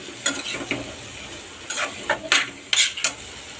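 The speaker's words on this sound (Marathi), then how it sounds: "मी हे भिजवलेले वाटाणे घालते चांगलं परतून घेऊया आपण" Soaked peas being sautéed for mixed vegetable bhaji, a quiet background sizzle with several bursts of scraping and clattering as a utensil stirs them in the pan, near and without speech.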